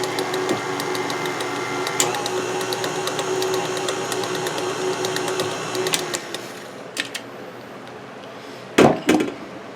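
An electric mixer runs steadily for about six seconds, beating banana bread batter with cinnamon, then cuts off, leaving a few faint bumps and two sharp knocks near the end.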